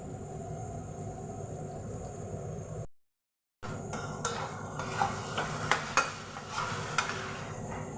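Banana stem and chicken stir-frying in a karahi, a soft continuous sizzle with intermittent scraping and clinks of a spatula, broken by a brief gap of silence.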